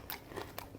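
Crispy five-spice fried enoki mushrooms bitten up close, giving a few short, sharp crunches over about a second with no talking.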